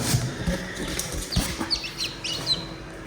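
Newly hatched chicken chicks in a homemade incubator built from a fish box give thin, high chirps and peeps, with some soft fluttering and rustling close by.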